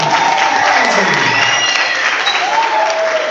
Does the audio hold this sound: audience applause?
yes